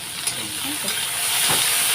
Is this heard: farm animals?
no